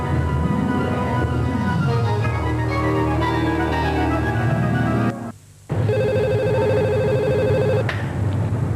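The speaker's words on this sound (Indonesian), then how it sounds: "telepon." A telephone rings in the soundtrack of an Indonesian action TV drama, with a repeating electronic ring pattern playing steadily under background music, breaking off briefly and then resuming clear and loud.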